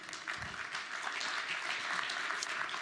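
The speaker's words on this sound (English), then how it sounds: "give a nice, warm morning round of applause to Mr." Morning conference audience applauding a speaker as he comes on, a sustained wash of clapping from a large crowd, steady and moderately loud.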